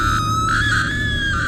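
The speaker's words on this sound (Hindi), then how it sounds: "उसकी चीख सुनकर" A woman screams loudly and continuously, the cry bending upward in pitch over a dense, droning eerie backdrop, forming a horror-story sound effect.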